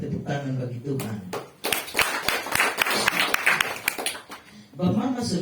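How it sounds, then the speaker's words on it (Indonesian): A church congregation claps hands together for a few seconds, a dense patter of claps framed by a speaking voice before and after. "Saya minta kita tepuk tangan bagi Tuhan."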